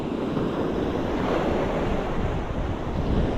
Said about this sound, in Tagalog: Lakas yung alon dito guys.